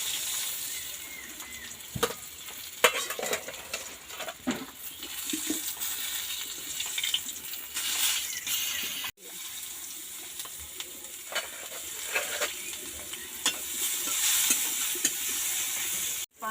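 Whole spices for a tempering crackle and sizzle in hot oil for a bottle gourd curry, a quiet, steady hiss with scattered pops and a few sharper knocks.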